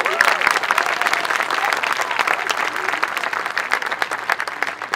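Outdoor concert audience claps for all-state band students, a dense, steady round of applause with sharp individual claps standing out, lasting a few seconds without any talking.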